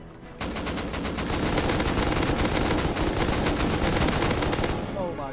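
Sustained rapid automatic gunfire from the survival game Rust, a loud continuous stream of closely spaced shots lasting several seconds before cutting off.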